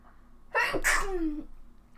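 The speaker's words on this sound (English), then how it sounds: "I need to sneeze." One sharp, close sneeze bursts out of a quiet room, with a brief sharp inhale before it and a short voiced tail trailing off.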